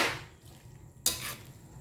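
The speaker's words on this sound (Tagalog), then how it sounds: "Lagay na natin yung carrots at patatas guys para maluto na rin yan. Haluin natin." Carrots and potatoes are stirred in a cooking pot, a soft scrape followed by one brief clattering knock and a quiet scraping tail, faint and close with no voices.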